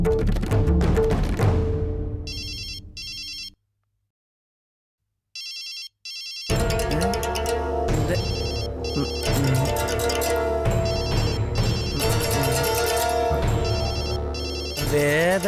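A phone ringtone in a Tamil TV drama scene trills in repeated bursts with a gap of silence, then a music-like ring pattern continues loudly over background sound.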